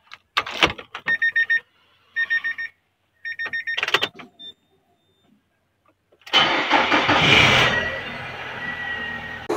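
A 2002 Yamaha RX King motorcycle in a workshop, starting up: a few short bursts of cranking, a pause, then the engine catches and keeps running loudly and steadily.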